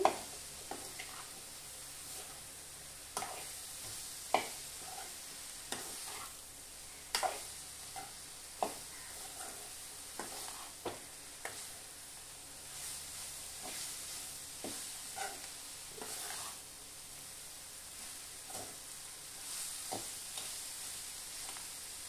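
Sliced ridge gourd fries in a hot pan with a constant sizzle, punctuated by regular scraping knocks of a spatula stirring it, close by and without talk.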